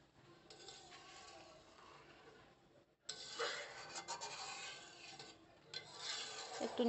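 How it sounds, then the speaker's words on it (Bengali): A spoon stirs sugar into bottle gourd chutney in a pan with a steady scraping, rubbing rasp. The sound is faint at first, pauses briefly, then grows louder and busier. "একটু নেড়ে চেড়ে দিচ্ছি চিনিটা যাতে ভালোভাবে মিশে যায়"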